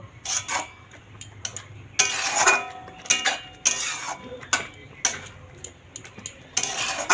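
A spoon stirring semolina in a pan as it cooks into a dough, with repeated scraping and knocking of utensil against metal in irregular bursts, close up and fairly loud.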